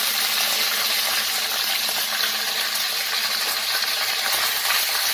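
Chicken pieces go into hot spiced oil in a pan and sizzle loudly, a bright, continuous hiss with fine crackling spatter that holds steady and close throughout.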